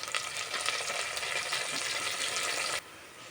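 Chopped onion fries with green chillies in hot oil for khichdi, giving a loud, close, even sizzle that cuts off abruptly near the end and leaves quiet room tone.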